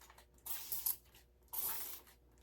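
Two short bursts of fine mist from a spray bottle of curl refreshing mist onto hair, each lasting about a second, with a quiet pause between them.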